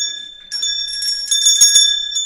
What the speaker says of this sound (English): ring the bell so you can be notified when we go live